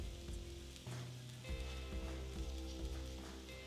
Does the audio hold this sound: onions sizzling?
yes